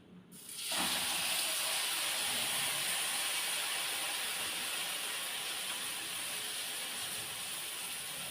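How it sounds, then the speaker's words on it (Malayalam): Banana fritters (pazhampori) fry in hot oil with a sudden loud onset of dense, continuous hissing sizzle that holds steady and close throughout. "രാജ്ഞി ഇതാ പഴം പൊരിക്കുന്നു ചായക്ക്"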